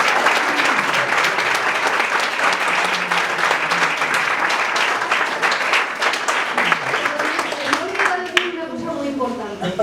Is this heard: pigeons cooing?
no